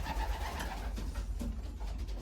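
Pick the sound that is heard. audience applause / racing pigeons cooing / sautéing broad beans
racing pigeons cooing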